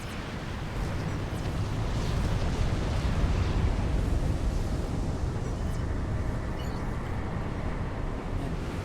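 Massive Yolona Oss strategic missile blast in Supreme Commander: Forged Alliance, a loud, sustained low rumbling roar that swells and holds steadily for several seconds with no voices.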